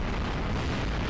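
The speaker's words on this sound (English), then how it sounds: "Blim blam explosions." Video game explosions in Monster Attack erupt as a dense, continuous low rumble of booms, loud and unbroken for a brief moment.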